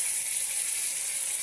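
Onions fry in hot oil in a pan with green chillies, giving a steady, close, bright sizzle that holds evenly throughout with no talk over it.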